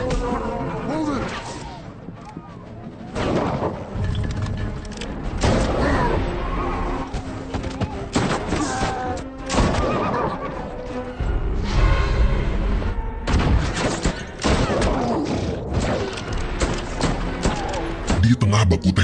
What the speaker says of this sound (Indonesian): Di tengah baku tembak, dari belakang ada seseorang menembak Roy.